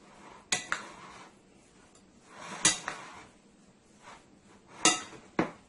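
A large spoon scrapes and knocks against a bowl while mixing salmon fish cake mixture with mashed potatoes and seasoning, a few sharp clinks spaced over a quiet background.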